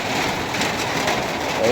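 Heavy rain pouring down in a steady, dense hiss that fills the short stretch without a break.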